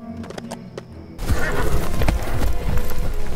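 A horse in the LEGO The Hobbit video game gives a loud, close whinny with clip-clopping hooves, after a brief stretch of quieter game sounds.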